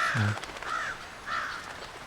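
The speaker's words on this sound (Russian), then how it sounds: "ворона." A crow in the video game The Lord of the Rings: War in the North caws three times, the harsh calls spaced evenly and fairly close, with a faint low thump at the start.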